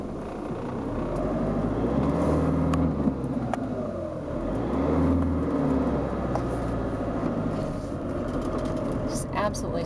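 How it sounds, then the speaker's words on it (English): A van and a few cars pass on a country B road in the North York Moors, a steady rising and fading road rumble with vehicles swelling by one after another, close and fairly loud. "Just getting passed by another van and a few cars."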